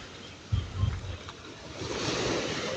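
Sea waves wash against the shore along the coast at Tanza, Cavite, with a soft surge breaking near the start and a steady hiss of surf building toward the end under light wind.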